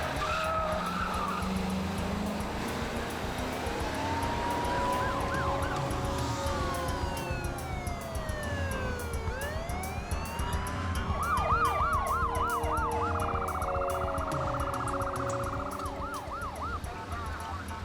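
Police and ambulance sirens wail together at a residential call, rising and falling wails and fast yelps overlapping loudly against steady road noise, with no talk.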